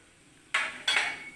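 Two grated coconut handfuls tossed into a hot pan for roasting, heard as two sharp scraping clatters of a spoon against the pan, close and fairly loud, each trailing off, with no talk.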